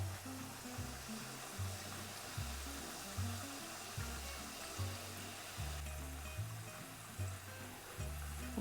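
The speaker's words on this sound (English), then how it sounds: "and I can hear it and you can see it, and they're bubbling nicely" Homemade corn tortilla chips bubbling and sizzling steadily in hot frying oil, a continuous close crackle with a repeating low thumping hum beneath it, no talk.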